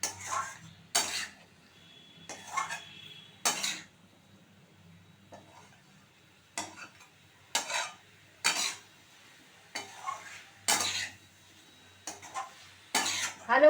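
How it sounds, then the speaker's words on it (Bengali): Spices for a jackfruit curry are stirred in a pan, with a dozen sharp, separate scraping and clinking strikes of a spoon against metal, heard up close over near-silence. "আমরা মাংস যেমন কষিয়ে রান্না করি, তো এটাও ঠিক একইভাবে কষিয়ে আমাদেরকে রান্না করতে হবে।"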